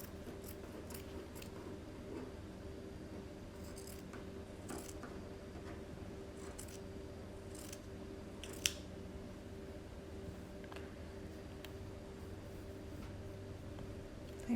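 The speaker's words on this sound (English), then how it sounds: "You're going to cut off this hem at the bottom because it really doesn't stretch." Scissors cutting the hem off an old t-shirt, a faint series of quiet snipping and crunching cuts at an uneven pace, close and soft.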